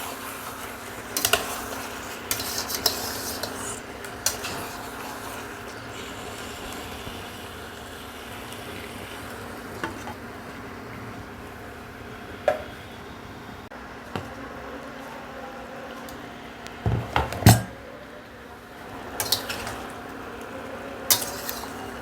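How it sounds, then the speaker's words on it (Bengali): A spoon stirs chicken frying in a pan. Scraping and clinks of utensil on the pan come in intermittent bursts over a steady low sizzle, close and moderately loud. "চিকেনটা একটু নেড়ে ঢাকা দিয়ে দেবো"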